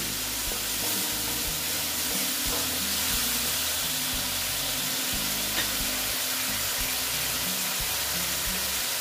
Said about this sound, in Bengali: আমি আস্তে আস্তে এটা সাঁতলিয়ে নিচ্ছি, মানে কষিয়ে নিচ্ছি